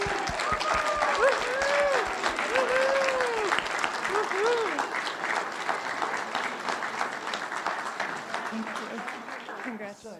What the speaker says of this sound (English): please join me in a round of applause for our newest members